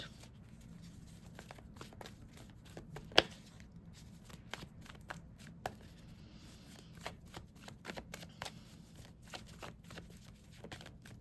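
Tarot cards shuffled close by, a quick series of soft riffling flicks and taps with one sharper snap, quiet and continuous without talk.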